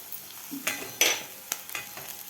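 Green chilies and crushed peanut powder sautéed in oil for dahi mirchi, a soft steady sizzle with several sharp clinks and scrapes of a metal spoon against the pan, close and alone.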